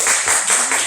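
Brief burst of applause from a Korean church congregation for the Sunday school children, bright and fairly loud with a slightly pulsing rhythm of massed clapping, no speech on top.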